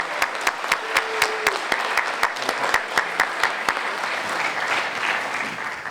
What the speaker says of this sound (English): can we have a round of applause for all our honorees?